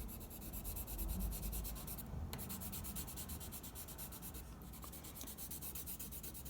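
Crayon rubbing steadily across a paper cut-out of a V-shaped vulture, a continuous close scratchy scribbling with brief pauses between strokes, heard alone.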